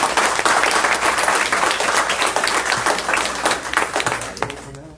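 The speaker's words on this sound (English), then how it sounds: "I want to give a big round of applause to Amy," An audience at a charity talk breaks into dense, sustained applause that fills the room, many hands clapping loudly at once before thinning and fading out at the end.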